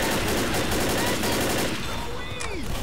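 Rapid gunfire rattles through a zombie-shooter co-op round in Left 4 Dead, the Crash Course campaign, dense bursts filling the first half before thinning into scattered shots over a busier background.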